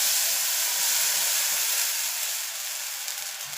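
A loud, steady hiss of water added to a hot tempering of oil and curry leaves in a pan, easing off slightly toward the end.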